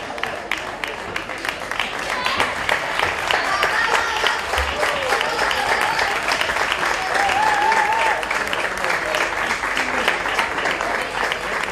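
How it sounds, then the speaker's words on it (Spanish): Sustained applause from a crowd at a Marbella day event, honoring athletes who ran up on stage, steady and loud throughout with some voices mixed in. "con este aplauso de los deportistas"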